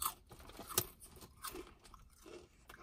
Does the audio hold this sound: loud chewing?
yes